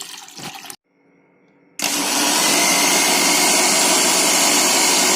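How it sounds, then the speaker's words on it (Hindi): An electric mixer grinder blending lassi of water, salt and black salt whirs briefly, cuts out for about a second, then restarts into a loud, steady high whine that runs to the end, close-up with no talk. "मिक्सी को आपको रुक रुक के चलाना पड़ेगा, ताकि गाढ़ अच्छी बन सके।"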